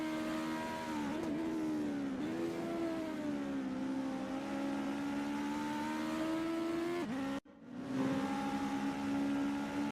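A race car on a qualifying outlap hums along at a steady, fairly distant engine pitch, rising and dipping slightly with gear changes, with a brief dropout before the engine note resumes.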